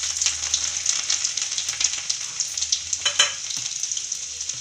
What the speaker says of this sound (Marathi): मस्त लाल होऊ द्यायचं लसूण.